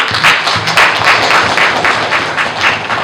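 A crowd at a political rally for a member of parliament claps loudly and steadily, a thick continuous wash of applause with gentle swells and no pauses.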